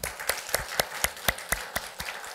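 Church congregation clapping in unison at a Sunday afternoon service, about ten sharp, evenly spaced claps in a steady rhythm, fairly close and clear with no talking over them.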